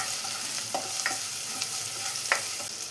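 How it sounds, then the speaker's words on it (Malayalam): Sliced medium onion fries in coconut oil for a Kerala-style tomato curry, a steady close sizzle with a few sharp clicks of stirring scattered throughout. "ഇതിലോട്ട് ഒരു സവാള ചേർത്ത് കൊടുക്കാം."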